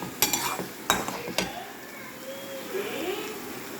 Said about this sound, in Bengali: এর মধ্যে আমি ছানাটাকে দিয়ে কষিয়ে নিচ্ছি